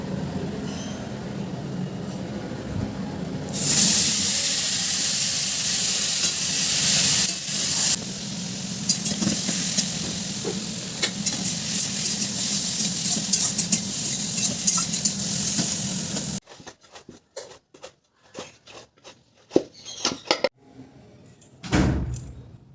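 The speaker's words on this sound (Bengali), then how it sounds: "ফোড়নে দিলাম একটু জিরে" Cumin seeds hit hot oil for tempering a vegetarian curry, bursting into a loud, steady hissing sizzle a few seconds in that holds for a while, then drops off to quieter scattered clinks and taps.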